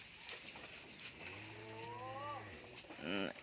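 Cattle on a home farm moo in one long, low, drawn-out call, followed by a shorter second moo, with faint background noise.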